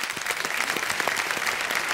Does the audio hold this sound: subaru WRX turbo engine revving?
no